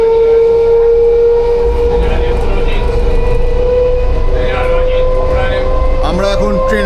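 A rumbling ride inside a moving train, a steady low clatter and hum under a sustained tonal whine, with a brief burst of voices near the end.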